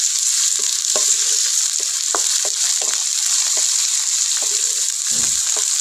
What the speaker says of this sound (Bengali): এখন তেল দিয়ে দেবো, শাক ভাজিটা করে নেব।